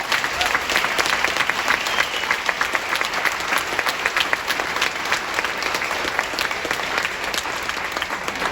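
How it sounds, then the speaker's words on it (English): Sustained applause from a concert audience honoring music educators at a high school marching band spring show, dense steady clapping throughout with a faint crowd murmur underneath. "just one big round of applause for all of our music educators that are out there"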